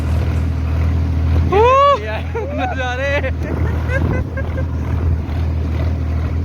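A tractor carries passengers along a mountain road between Dhankar and Kaza in Spiti, its engine giving a steady low rumble with wind noise throughout, while people chatter and exclaim close to the microphone over it.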